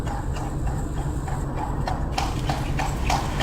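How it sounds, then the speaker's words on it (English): A horse pulling a buggy near Ross Castle in Killarney, Ireland clops along in a steady, close rhythm of hoof strikes on the road, sounding clearly over light background noise. "A neat little horse and buggy."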